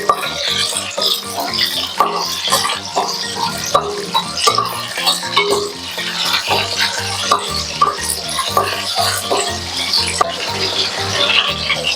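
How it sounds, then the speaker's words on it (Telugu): Green chilies frying in a pan for a spicy chicken fry, a steady busy sizzle with frequent stirring scrapes and clinks of a utensil against the pan, continuous and close throughout. "చారు మనం పచ్చిమిర్చి వేసేసుకుందామండి."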